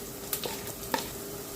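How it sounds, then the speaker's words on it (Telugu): Ginger garlic paste fries with golden onions in hot oil for egg biryani, a constant close sizzle broken by a couple of sharp scrapes of a spoon stirring the pan. "అల్లం వెల్లుల్లి పేస్ట్ వేసిన తర్వాత బాగా ఫ్రై చేస్తూ ఉంటే మంచి అరోమా వస్తుంది."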